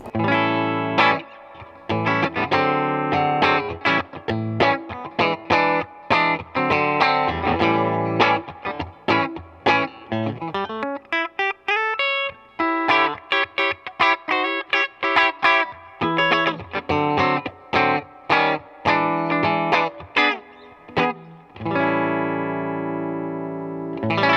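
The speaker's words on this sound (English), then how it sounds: "here we have the bridge pickup, which again is a stacked single coil" A Fender Bruno Mars Stratocaster electric guitar played through its stacked single-coil bridge pickup, with bright, rapid picked chords and notes, close and loud with no talking.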